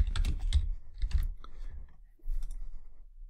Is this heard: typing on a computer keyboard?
yes